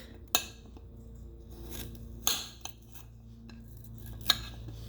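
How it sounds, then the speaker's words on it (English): A knife rough chopping garlic on a plate, with a few sharp clinks of blade on ceramic spaced a second or two apart and quiet handling noise between, close up with no talking. "I'm just rough chopping the garlic."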